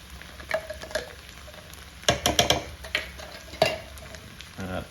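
Minced garlic spooned into a hot skillet sizzles and crackles up close, with spoon scrapes and stirring clinks breaking into the steady frying hiss.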